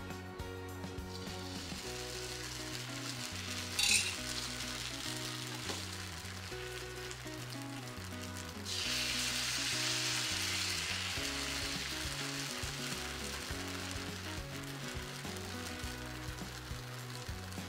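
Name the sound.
fasting ghavane batter sizzling on a griddle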